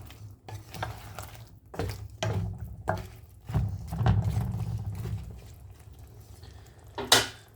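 A utensil stirs spice masala in a cooking pot for a dried fish dish, giving repeated scraping and knocking strokes over a low sizzle. A sharper clank rings out near the end.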